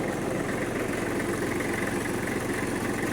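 A Kubota L1-215 tractor with power steering idles nearby in a steady, even diesel chug with a constant low rumble and no changes in pace.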